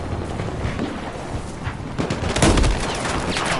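Gunfire from a Battlefield 4 conquest match, a dense burst of shots and blasts with a louder cluster of reports midway, no talk over it.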